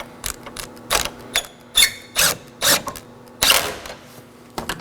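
A hand ratchet clicks in short uneven bursts while tightening battery hold-down nuts on a Nissan Sentra, the sharp mechanical ratcheting close up and repeated several times with brief pauses between strokes.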